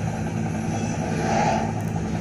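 A loud, continuous engine drone with a buzzing rotor-like rattle, a helicopter sound effect in a children's read-aloud adventure story, holding steady for a couple of seconds with no voice over it.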